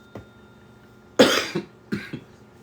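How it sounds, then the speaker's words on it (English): A person coughs close to the microphone: one harsh, heavy cough followed by a few shorter, smaller coughs. "I'm over here coughing"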